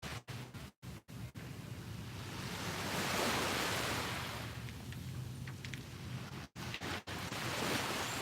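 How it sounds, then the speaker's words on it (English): Ocean waves wash steadily onto a beach, a broad continuous surf roar that swells and recedes, with a few sharp microphone wind buffets and no talking. "I hope you can hear the waves"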